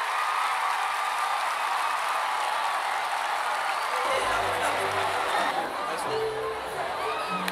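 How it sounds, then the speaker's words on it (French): Guests at a wedding ceremony held in a park break into loud, sustained clapping and cheering, the broad crowd noise swelling from about the midpoint while voices call out over it. "Applaudissez, applaudissez fortement."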